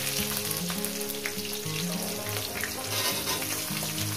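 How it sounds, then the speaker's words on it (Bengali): Chopped onions sizzle steadily in hot cumin-tempered oil for a fish and okra curry, a dense continuous crackle, close and even, with a faint low tonal hum running underneath. "জিরে ফোড়নের পর আমি দিয়ে দেবো"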